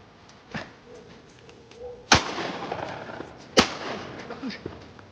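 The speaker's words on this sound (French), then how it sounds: "J'ai tiré que 2 coups, j'ai plus le cartouche." Two sharp shotgun blasts fired while hunting wood pigeons in a forest in the Tarn, about a second and a half apart, loud and close, with faint rustling and brief voices around them.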